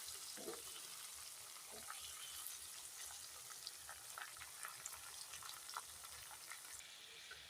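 Dry coriander and cumin seeds roasting in a pan for a kofta curry, giving a soft, steady sizzle with faint crackles and occasional light scrapes of stirring throughout.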